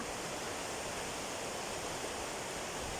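A mountain stream flows in a constant, dense rush of water, steady and even throughout, moderately loud and nearby, with no talking over it.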